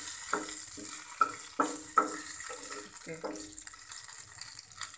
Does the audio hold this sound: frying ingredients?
yes